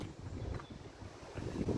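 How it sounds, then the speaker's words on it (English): Gusty wind buffets the microphone beside the Lancaster Canal near Thwaite Brow Woods in low, rumbling waves, rising and falling over a couple of seconds with no one talking. "It's a little bit windy."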